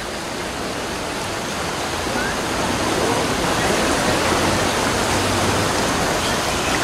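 River Chixoy running high in the rainy season, a loud steady broadband rush of flowing water that continues unbroken throughout.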